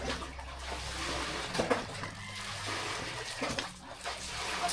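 Water running into a DIY backyard swimming pool, a steady broadband rush with a low hum beneath and occasional splashy surges, fairly close and continuous.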